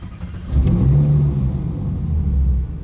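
Ferrari engine starts in Monaco and rises into a loud, close revving roar that holds steady with a deep rumble, with no talk over it.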